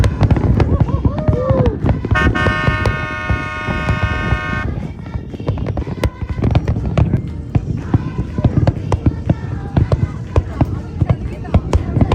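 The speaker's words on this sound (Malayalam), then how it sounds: "കടലിൽ നിന്ന് എല്ലാ സൈഡിലും ഉള്ള വെടിക്കെട്ട് ഇങ്ങനെ കാണുന്നുണ്ട്" New Year fireworks bursting over the sea near the Burj Al Arab in Dubai, a steady barrage of loud pops and crackles with a sustained horn blast partway through, while people talk nearby.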